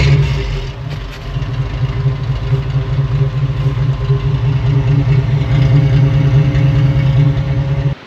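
A 1983 Jeep CJ7 engine with a stock replacement muffler idles steadily after starting, a loud, even low-pitched rumble with a firm exhaust note and no talking.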